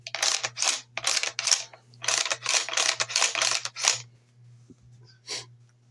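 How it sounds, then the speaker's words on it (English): Metallic clicks and rattles from working the bolt release on a TR Imports (Alpharms) Inertia 12 gauge shotgun during field-stripping, a quick run of sharp snaps close up that thins to a few softer taps over a low hum. "Hit your bolt release."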